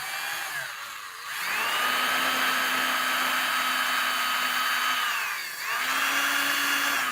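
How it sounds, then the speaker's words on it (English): A power drill whines at steady high speed in two long runs, the first winding up after a short pause and the second following a brief dip, close and loud. "Is my drill straight?"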